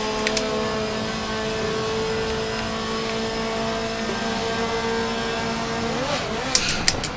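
A Lancia rally car races in B-class showroom rally competition in Forza Motorsport 7. Its engine holds a steady, sustained drone, with the pitch shifting near the end and a few sharp clicks.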